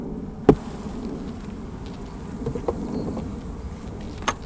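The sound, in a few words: honey bees festooning in a hive feeder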